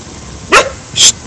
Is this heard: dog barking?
yes